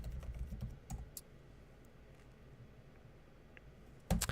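Typing on a computer keyboard: faint, close clicks and key taps in scattered bursts, ending with a louder clatter of keys.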